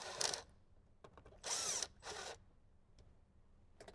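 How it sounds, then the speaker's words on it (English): Screw gun with a socket extension backing out 7mm bolts on an '07–'14 Jeep JK Wrangler, three short whirring bursts with light clicks and clatter in between, fairly close. "We can grab our screw gun with a socket extension, or you can use a regular socket wrench, and we can start removing some of those 7mm bolts"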